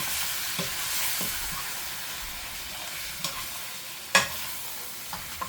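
A Cajun-style rice mixture is stirred as it sizzles in a pot, with a continuous hiss broken by occasional scraping knocks of the spoon, one louder clack near the end.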